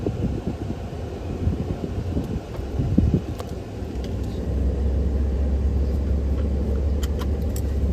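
A car rolls down a road into Canyon Lake RV Resort, with steady engine and tire rumble, wind buffeting and a few light rattles throughout.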